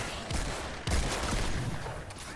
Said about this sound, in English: it's like a blunderbuss or whatever it's called